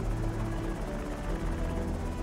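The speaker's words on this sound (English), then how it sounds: "wait for this helicopter to pass by" A helicopter in the video game Project Zomboid drones overhead, a steady loud rotor thrum that fills the short stretch without any talk.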